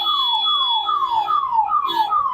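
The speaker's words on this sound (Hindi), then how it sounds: "मेरे पीछे ही एम्बुलेंस है" Ambulance siren in city traffic, a rapid repeating falling wail sounding steadily and fairly loud with a constant high tone and traffic noise beneath.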